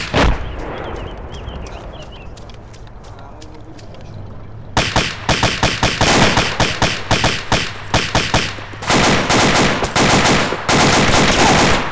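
Gunfire in the military shooter ArmA 2, starting with a single shot, then rapid sustained automatic bursts firing loud and close in fast repeated strings, with a shouted voice briefly under the opening.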